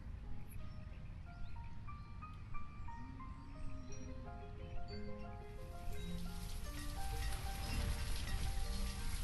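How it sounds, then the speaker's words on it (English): Steady rain falling in the village-building video game Banished, a soft continuous patter under light ambient game music that swells slightly louder and denser toward the end. "And it's raining."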